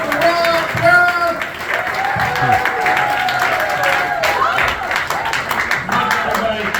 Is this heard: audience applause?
yes